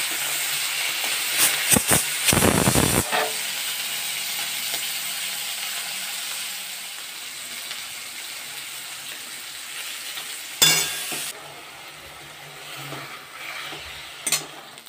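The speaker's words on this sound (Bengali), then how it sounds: "এবার আমি মাছগুলো ভেজে নেব।" Morla fish sizzling and hissing as they fry in a pan, a steady broadband frying hiss running throughout, with a few louder crackles and clatters near the start and later, and no talking.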